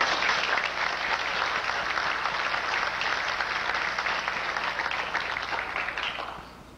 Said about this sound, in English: You deserve that applause, too.